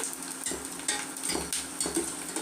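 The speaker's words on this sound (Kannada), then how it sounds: "ಎಣ್ಣೆಗೆ ಸಂಡಿಗೆನ ಹಾಕೋಣ ನೋಡಿ ಯಾವ ರೀತಿ ಅರಳುತ್ತಾ ಇದೆ ಅಂತ" Rice sandige, sun-dried rice crisps, fry in hot oil with a soft, steady sizzle and bubbling. Faint scraping and utensil clinks come in a loose rhythm, close by and quiet, with no one talking.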